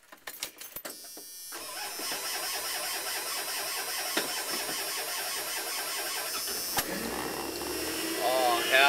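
Keys jingle briefly, then a van engine cranks in -6 degree cold, catches and settles into a steady idle that swells louder near the end, heard close by.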